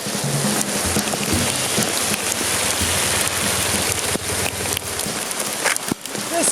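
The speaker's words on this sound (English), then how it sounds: "That's a whole lot of hail." Hail falling hard and steady during a motorcycle rally, a dense, loud patter of small BB-sized pellets striking surfaces, continuous throughout with occasional brief sharper hits.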